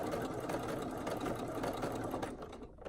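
A home sewing machine stitches reversible scoop bikini fabric in a quick, even mechanical run that stays steady for about three seconds before easing off at the end.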